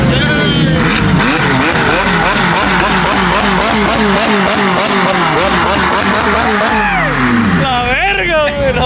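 A turbocharged car's engine revs hard in repeated rising-and-falling surges, with loud turbo whoosh, close to the microphone, while people talk over it.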